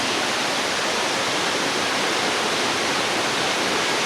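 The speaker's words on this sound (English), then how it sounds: "So this is where the waterfall starts." A waterfall in an Indonesian forest roars constantly and powerfully nearby, rushing water crashing in a dense unbroken hiss that fills the whole space without pause.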